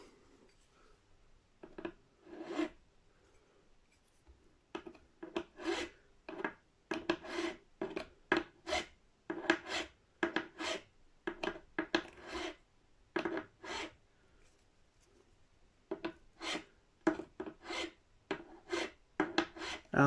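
Nut slots on a 1968/1969 Gibson SG Special being cleaned up with a small file, close dry rasping strokes in uneven bursts separated by short pauses, with no voices.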